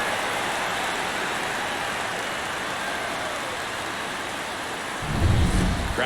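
Stadium crowd in the baseball video game MLB The Show 24, a steady loud roar of cheering through a tight one-run ninth inning of a World Series game, swelling briefly louder near the end.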